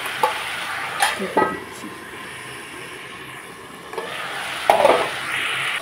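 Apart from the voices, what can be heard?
stirring vegetables with tomatoes in a frying pan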